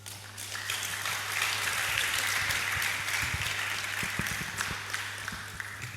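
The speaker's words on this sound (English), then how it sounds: "I thought somebody would clap." Audience applause at a university student union leadership inauguration ceremony in Nigeria, a sustained, dense clapping crowd filling the hall steadily for the whole stretch, with no voices over it.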